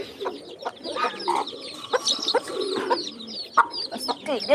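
Chickens and chicks nearby cluck and peep in quick, irregular bursts, with sharp high chirps scattered over lower clucking calls and no speech.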